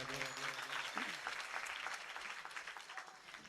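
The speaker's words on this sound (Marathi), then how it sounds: "मी सर्वांना अशी विनंती करतो की त्यांच्यासाठी जोरदार टाळ्या वाजवा." Village audience clapping loudly for a kirtan performer at a religious gathering, a dense round of applause that starts close and strong and slowly thins toward the end.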